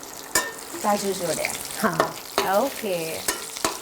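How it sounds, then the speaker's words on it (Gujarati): Boiled potatoes and cashews sautéing in a pan, with steady frying sizzle and scraping stir strokes throughout, sharp utensil clicks, and people talking over it. "અને એને થોડા સાંતળીએ છીએ આપણે. કાજુ જોડે."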